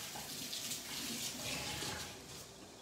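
Running water from a sink tap as hands are rinsed and swirled in a kitchen while making bison meatballs, a steady close splashing hiss lasting throughout.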